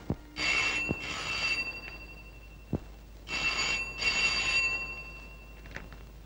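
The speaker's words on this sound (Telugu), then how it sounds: "ఫోన్ ఎత్తు." An old telephone bell in a comedy film scene rings in two pairs of bright, steady bursts, close and clear with a brief pause between pairs and no talking over it.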